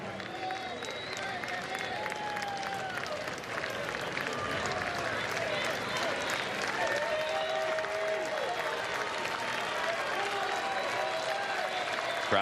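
A spring training baseball crowd between the Tigers and Phillies cheers and claps after a called strike, a dense sustained roar of applause with voices talking over it throughout.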